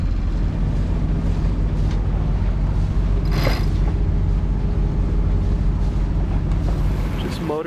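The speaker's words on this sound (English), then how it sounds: "Motor sailing south." Beneteau 281 sailboat motoring under its diesel engine, a steady low drone with creaking hull and rigging sounds and wind buffeting the microphone, continuous and close throughout.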